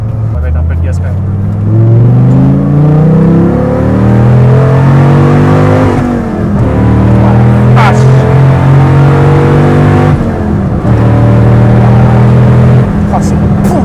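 Dodge Viper SRT-10 V10 engine revving up through several long rising and falling pulls, loud and close with a deep rumbling tone, no talking over it.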